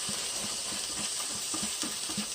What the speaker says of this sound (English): Just going to kind of saute that for about a minute or so.